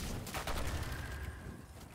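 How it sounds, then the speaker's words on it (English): Solar-ability explosions in the video game Destiny 2, fought in the Veles Labyrinth master lost sector, burst out as a dense string of rapid blasts and gunfire-like pops, loud and continuous across the whole moment. "Solar explosions"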